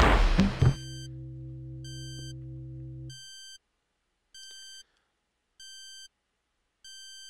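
Repeated electronic beeps from the game Space Quest 3 sound at an even pace, short bright tones spaced by silence, following a brief burst of noise and a low sustained hum.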